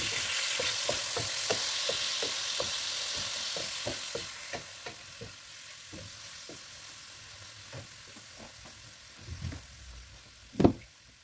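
Meat browning in a pan, stirred with a wooden ladle: a steady broad sizzle with a quick run of soft rhythmic scraping strokes that slow and thin out, then one sharp louder knock near the end.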